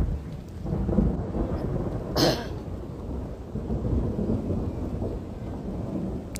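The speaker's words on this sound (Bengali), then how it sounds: "মেঘ একদম গড়গড় করে মেঘ ডাকছে আর কি" Thunder rumbles low and steady through a rainy backdrop, swelling in a deep continuous roll with a brief sharper crack near the middle, with no speech.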